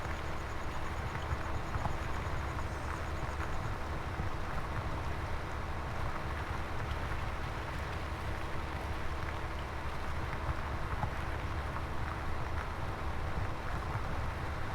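A tractor hauls a plough across a field in Farming Simulator 17, giving a steady, continuous low engine drone with broadband rumble that stays even and unbroken throughout.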